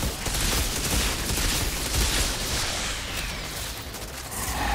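Dense, continuous gunfire from the video game Outriders, a loud unbroken wash of rapid shots and blasts with no clear gaps between them.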